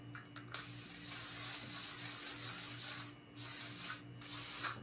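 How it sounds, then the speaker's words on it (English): Great Barrier Heat Protectant Hairspray from Beach Waver hisses out of the can in long close bursts, broken by brief pauses. "Now for a heat protectant spray, I'm going to be using this."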